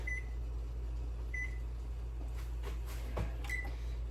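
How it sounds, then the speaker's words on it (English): Microwave oven being set to a five-minute timer, giving three short, clear electronic beeps spaced about a second apart over a steady low appliance hum, with some faint kitchen clatter in between. "And I am going to set a timer for 5 minutes."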